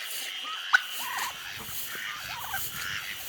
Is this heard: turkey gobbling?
yes